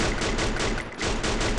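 Rapid, continuous gunfire from a shooting video game, a loud, dense burst of shots with a brief gap near the middle and no talk.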